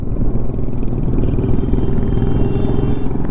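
A motorbike strains uphill on the rough Zojila pass with a loud, close, continuous engine rumble and rattling clatter, heard without talk.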